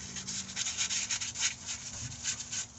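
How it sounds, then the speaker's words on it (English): Repeated rubbing strokes of a cloth wiping an oil-free clean surface with alcohol, the transmission pan area of a 2015 Nissan Quest during a CVT fluid and filter service; steady, close, soft swishing in a quick back-and-forth rhythm, no talking. "get a little bit of alcohol and clean the surface"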